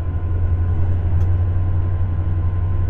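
Steady low rumble of a train passing close by on the Paris–Orléans–Limoges line, heard from a BB 75400 locomotive cab, a continuous heavy drone with rail noise throughout.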